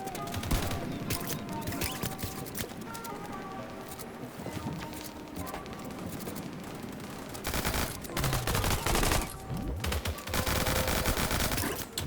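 Rapid bursts of automatic gunfire from an opposing team in a Fortnite trio cash cup match, dense sustained volleys with overlapping shots, growing louder toward the end, with game sounds layered throughout.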